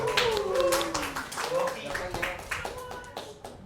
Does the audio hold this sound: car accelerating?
no